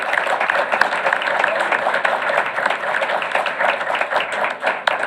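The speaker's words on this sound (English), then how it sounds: "that deserves a big round of applause for them" An audience at a school board meeting gives sustained, loud applause for a state champion high school choir, a dense, even stream of clapping lasting several seconds with a few voices under it.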